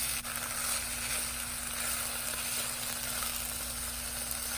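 Radish and drumstick pieces sauté in a pan for fenugreek sprout sambar, making a soft, even sizzle with a faint steady hum in the background and no talking.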